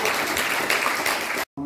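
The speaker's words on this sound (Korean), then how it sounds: "박수 한번 부탁드리겠습니다" A crowd claps loudly and steadily for about a second and a half, then it cuts off abruptly.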